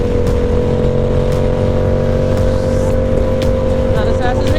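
A fast red car roars past at speed, its engine loud and steady with a rising whine, heard from a moving motorcycle.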